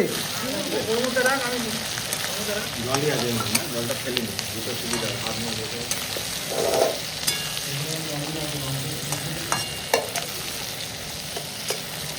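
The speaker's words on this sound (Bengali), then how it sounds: "ও এখন শুরু হয়ে গেছে আমাদের ড্রাই চিলি। এখানে রান্না হচ্ছে, এখন ড্রাই চিলি হবে।" Dry chili sizzles and crackles in a pan over an outdoor picnic cooking fire, a steady close frying hiss with scraping stirs throughout, while people talk nearby.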